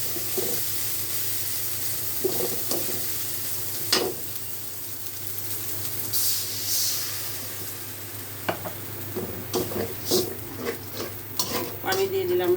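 Fish frying in a pan for a curry with eggplant, scraped and stirred with a spatula in irregular strokes over a steady sizzle, with no one speaking.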